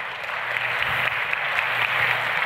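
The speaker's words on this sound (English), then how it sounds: "Give him a round of applause." An audience applauds as a man walks up onto the stage at a comedy show, a continuous, even round of clapping with a faint hum underneath.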